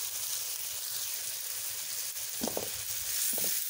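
Cumin seeds sizzling in a hot pan with chicken liver for a tawa fry, a steady close frying hiss with a couple of brief stirring scrapes near the end.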